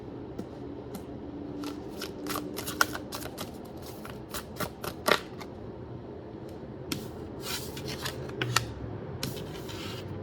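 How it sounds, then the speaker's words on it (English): Tarot cards shuffled and drawn by hand, a series of crisp riffles, snaps and slides arriving in irregular bursts, close up against a quiet room. "I'm pulling like 5 cards here."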